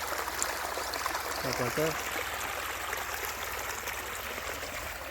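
Water from a pump motor pours steadily over cluster beans in a basket, a continuous broadband rush with a brief spoken word partway through.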